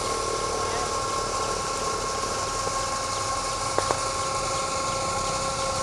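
A 30-ton cargo boat's engine idles with a steady mechanical drone and faint ratcheting, plus a couple of brief metallic clicks near the end, close and continuous.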